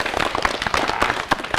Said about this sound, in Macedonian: еден аплауз за точниот одговор